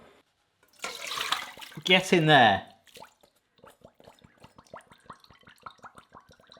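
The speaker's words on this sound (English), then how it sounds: "all of that water, we are now draining off the cheese" Rinsing water drains off grated cheese in a home kitchen, a short burst of splashing, gurgling runoff lasting about two seconds, followed by a run of faint drips and small clicks while a person speaks briefly.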